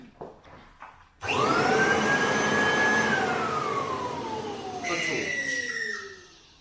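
A Kirby Heritage II vacuum cleaner switches on with a sudden loud whine that rises to a high pitch, holds, then slowly winds down in tone, preceded by a few faint clicks and handling noises.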